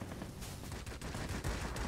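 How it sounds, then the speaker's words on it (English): A sustained burst of aircraft machine guns firing in World of Warplanes, fast rattling shots packed tightly together at close range with no talk. "do some machine gun damage even when my 20mm cannon's over."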